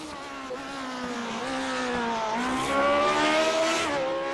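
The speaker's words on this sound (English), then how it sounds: "Love the sound of this Lotus 79 as Valiokis spears to the final sequence." Lotus 79 race car engine in a racing video game on an oval speedway, a steady loud high-pitched howl with rising and falling pitch as it runs through gears, heard alone.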